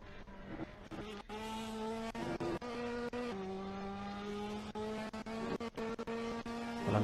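A Ferrari Challenge race car laps the Imola circuit, its engine note holding steady then stepping through gear changes with a sustained, buzzing roar heard from onboard and no talk.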